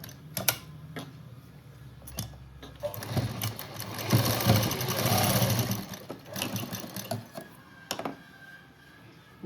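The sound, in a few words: sewing machine stitching saree border patchwork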